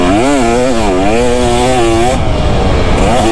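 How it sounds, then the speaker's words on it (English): A 2024 KTM 250 SX two-stroke motorcycle lugs at low revs while ridden, a loud, close engine drone that wavers up and down in pitch and then turns rougher and more broadband. "you can lug this thing and still get great"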